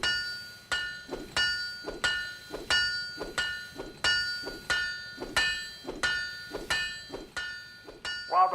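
Buff hammer in Guns of Icarus Alliance strikes a ship part again and again, about a dozen sharp metallic clangs with ringing tails, evenly spaced and close.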